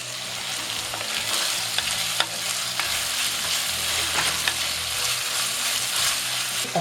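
Curry leaves sizzle and crackle in hot oil for a mutton curry, with steady frying hiss broken by occasional spoon scrapes and small pops, close and continuous without any voices.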